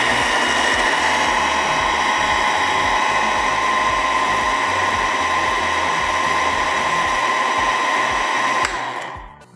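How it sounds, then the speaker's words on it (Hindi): An electric blender purees a hot sauce for chicken parmigiana, a loud steady whirring motor running without pause for about nine seconds before spinning down and stopping. "चलें अब इसको ब्लेंड कर लेते हैं।"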